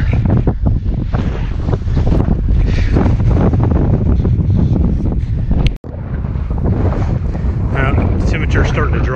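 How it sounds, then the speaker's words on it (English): Strong wind buffets the microphone on a rocky mountain summit in the Wichita Mountains, a loud continuous roar with gusts that surge and ease and one brief dropout, heard close and alone. "the wind's gonna make that even colder, but it's not bad right now"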